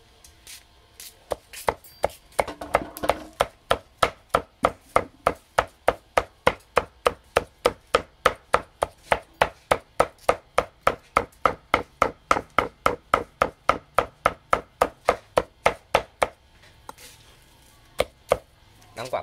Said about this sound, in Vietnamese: Con dao của mình băm hết một cân muối xương không thấy một vết nhăn